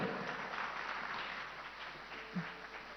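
A concert audience applauds the drummer during a composer's performance at the Ideas of India 2025 event, a faint, steady wash of distant clapping that holds evenly throughout.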